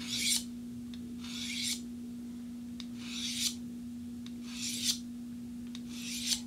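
A dull kitchen knife is honed on a sharpener in a quiet room: five slow, evenly spaced rasping strokes of steel against the hone, each about half a second long. A steady low electrical hum runs underneath throughout.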